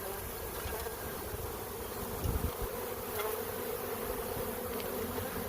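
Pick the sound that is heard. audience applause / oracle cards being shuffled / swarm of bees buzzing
swarm of bees buzzing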